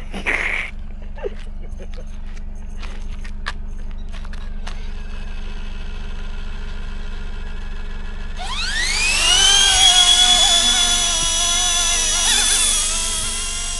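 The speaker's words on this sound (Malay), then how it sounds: "Next take off helikopter." A small high-pitched motor of a radio-controlled model helicopter whines up sharply and holds a buzzing drone as it takes off from an airfield runway, preceded by scattered clicks and a low hum.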